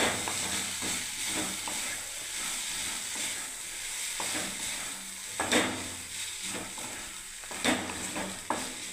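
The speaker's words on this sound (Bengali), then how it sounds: "এই দেখুন দিয়ে দিলাম, এবারে নাড়তে থাকবো।" Boiled Maggi noodles being stir-fried in a wok, with a continuous sizzle under repeated scraping and clattering strokes of a spatula, several sharper knocks standing out midway.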